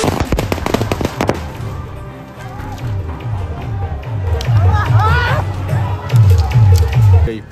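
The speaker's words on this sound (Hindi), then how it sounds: "तो सारी आतिशबाजी चल रही थी" Fireworks and firecrackers go off at a village wedding during the jaimala garland ceremony, loud crackling bursts and repeated pops over a noisy crowd with steady chatter.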